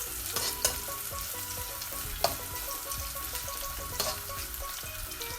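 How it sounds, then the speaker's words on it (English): Crab curry ingredients sauteing in a pan, a steady close sizzle with repeated light stirring scrapes and a few sharper knocks of the utensil, no talking. "we're gonna saute that for about 2 to 3 minutes"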